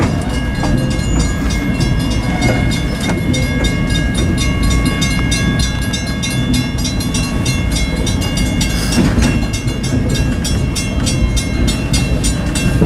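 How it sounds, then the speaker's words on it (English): A Southern train rolls across a bridge in New Brunswick, its loud continuous rumble and rapid clatter of wheels on rails sustained throughout, close and steady with no voices. "looking at the train going by"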